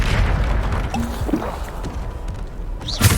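A Bombarda blast spell from Hogwarts Legacy detonates as a short booming burst, with a second sharp explosive hit near the end, amid quieter game ambience.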